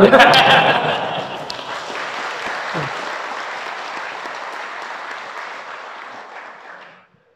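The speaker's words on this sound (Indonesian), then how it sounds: "Kenapa jadi tepuk tangan begitu?" An audience at an Islamic sermon applauds loudly, the clapping starting strong then slowly fading over several seconds before stopping.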